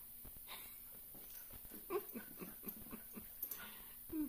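Faint, close whimpers, wheezy snorts and sniffing from dogs come in short, irregular bursts against a quiet background.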